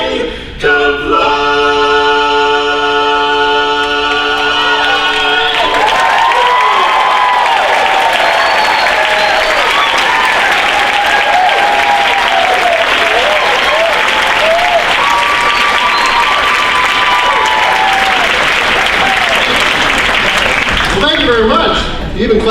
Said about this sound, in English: You even clap for a baritone.